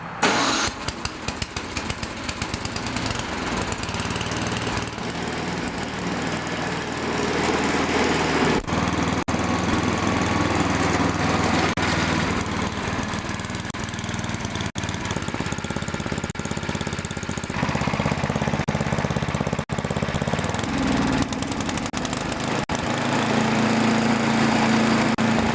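A small snowblower engine, just back from a carburetor cleaning, is pulled over, catches and then runs steadily. The close, loud, buzzing mechanical drone continues throughout with no talking.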